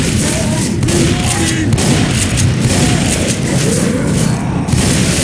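Gunfire and booming blasts from the Left 4 Dead 2 zombie shooter, No Mercy campaign, rumble continuously and densely throughout, with faint voices calling out beneath the dense battle noise.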